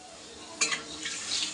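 Water splashed into potatoes frying with spices in a pan, a sudden burst of hissing sizzle that fades into a softer bubbling crackle, close and moderately loud.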